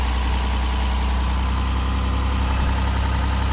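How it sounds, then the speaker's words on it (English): A classic Mercedes-Benz W111 engine with a modern EFI upgrade idles steadily at a fairly high, even pitch around 1300 rpm, a constant close-up hum and rumble with no variation or voices. "it's idling pretty high 1300"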